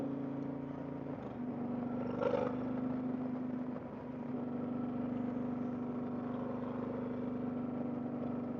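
An Indian Challenger motorcycle is being ridden, with a fairly quiet, steady engine drone and faint wind rush throughout and a brief louder flutter near the start.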